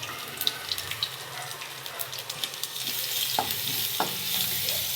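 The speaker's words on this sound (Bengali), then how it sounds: "ফোড়নে লাগছে দুটো শুকনো লঙ্কা, কালো জিরে আর গোটা জিরে, আর দিয়ে দেবো থেতো করে রাখা রসুন" Dry red chillies, black cumin, whole cumin and crushed garlic sizzling in hot oil for a tempering, a steady close frying hiss with a few stirring clinks and scrapes.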